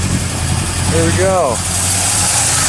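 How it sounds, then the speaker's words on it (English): Small-block Chevy 350 V8 with a single exhaust idles with a steady low rumble and a slight miss, close and constant throughout while someone speaks briefly over it. "for a little 350 Chevy, she sounds pretty good for a single exhaust"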